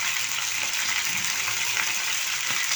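Chicken pieces searing in a hot pan before going onto potatoes, a steady broadband sizzle that holds at an even level throughout, close and continuous, with no talking.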